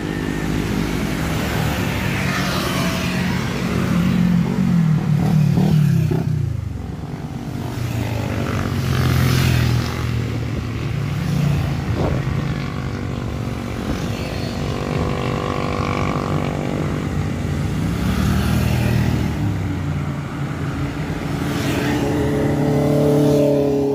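Cars and motorcycles passing along a cornering stretch of road in the Philippines, engines rising and fading one after another, loud and fairly close, with no talk.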